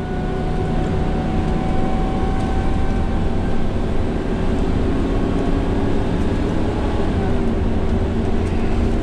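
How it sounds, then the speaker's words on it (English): Cabin of a 2005 Winnebago Itasca Suncruiser 35U Class A motorhome with a 5-speed Allison transmission accelerating up a ramp, a loud steady engine drone and road rumble holding constant throughout, with no talk. "Whoa, boy, that passing gear kicks in. You feel it. That's that 5-speed Allison for you."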